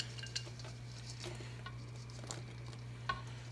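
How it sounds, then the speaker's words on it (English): Bacon is folded into thick cornbread batter, giving soft, faint stirring and scraping with occasional light clinks of a utensil against the bowl over a steady low hum. "We're going to now fold in the bacon."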